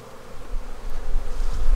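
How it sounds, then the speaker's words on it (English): A dense, continuous buzz of many honey bees on a full hive frame in 25°F winter cold, close and loud, swelling slightly toward the end with no voices. "That is another full frame of bees."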